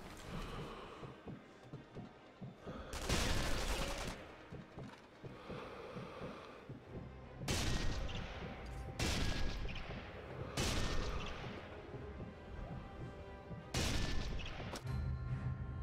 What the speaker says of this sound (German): Beim Turm schießt jemand auf mich.